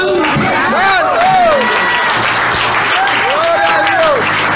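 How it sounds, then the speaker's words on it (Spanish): Church congregation applauding at a Spanish-language service, a steady wash of clapping with cheers and shouted voices rising over it throughout. "Dale un aplauso."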